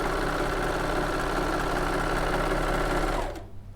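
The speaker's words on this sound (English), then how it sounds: "I'm going to whoosh it on the overlocker now, so you can see one side, see what it looks like" An overlocker sewing machine stitches fabric in a steady, fast, loud mechanical whir close up, running for about three seconds before stopping abruptly.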